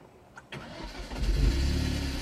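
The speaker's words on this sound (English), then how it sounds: "It's just like starting a normal car." A Hyundai Genesis car starts: a couple of clicks and a short cranking whir, then the engine catches with a loud low roar and settles into a steady close idle.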